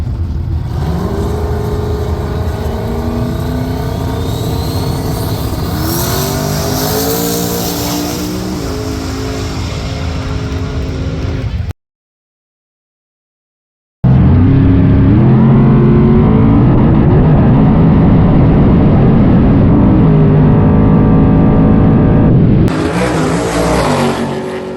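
A drag racing car makes a pass down the track, its engine roaring loud and close with rising revs through gear changes, cut by a short gap of silence before another loud run resumes.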